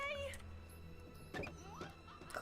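A cat meows in the video game Split Fiction, with a few short, faint mews spaced across a couple of seconds over quiet background hum.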